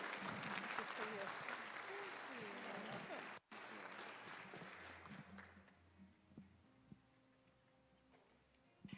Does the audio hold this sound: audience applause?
yes